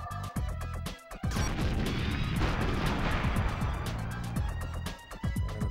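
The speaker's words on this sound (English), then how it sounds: "Blow this mainframe up." In the GoldenEye N64 video game, a mainframe is blown up: rapid, loud gunshot cracks give way to a big booming blast and a sustained roaring rumble, with more shots rattling at the end.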